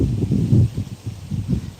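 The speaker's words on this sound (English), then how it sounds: "Usually, if it's not so damn windy." Wind gusting across an open pond, a steady low rumble and buffeting that swells and falls in uneven surges close to the microphone, with no voices.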